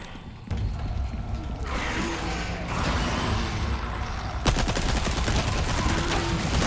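A thermal-scoped rifle fires in the Resident Evil 4 Remake video game, heavy loud shots and mechanical clatter rolling into a dense rapid barrage near the end.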